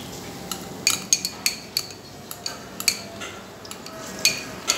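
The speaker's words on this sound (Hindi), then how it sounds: "अब हम इसमें अदरक लहसुन का पेस्ट जो है वो मिक्स करने लगे हैं" Metal spoon clinking and scraping against a cooking pot while ginger garlic paste is stirred into browned onions, a series of sharp, bright clinks at irregular intervals over a quiet background.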